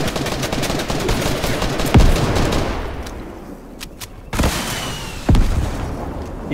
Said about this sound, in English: Drum gun.